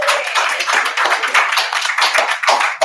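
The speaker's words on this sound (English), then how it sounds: "give Willie a round of applause" A round of applause for Willie from a small group at a boot camp, hands clapping close and fast in a dense, steady burst that carries on for the whole moment.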